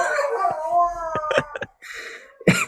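Two golden retrievers howl together indoors, long wavering rising and falling howls close by, breaking into short yips before a final loud howl.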